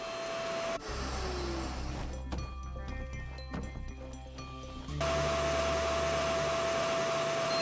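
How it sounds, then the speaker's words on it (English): A vacuum tool in the farming and crafting video game My Time at sucks up debris, a steady whirring drone with clattering bits being pulled in partway through, then a louder, smoother hum near the end. "I guess I really don't need to vacuum all this stuff up"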